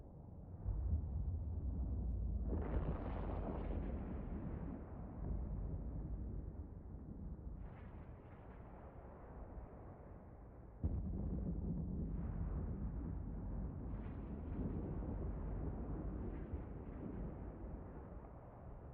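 Autocannon fire from a Slasher frigate in EVE Online, heard as a continuous roaring, rumbling barrage with bursts that swell and fade over the stretch, loud and unbroken with no voices.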